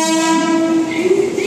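A train sounds a loud, close horn at a station, a single sustained tonal blast that rises slightly in pitch.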